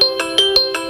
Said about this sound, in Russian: Рингтоны.